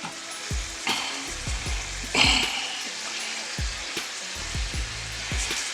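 Sausage and hamburger meat browning in a pan, a steady loud sizzle with repeated scraping clatters of a utensil stirring the meat, no voices.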